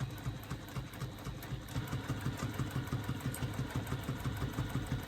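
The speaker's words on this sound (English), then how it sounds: "So we're just going to continue to stitch around our lining." A sewing machine stitching around a bag lining, a fast, steady mechanical chatter of the needle running continuously at close range with no talking.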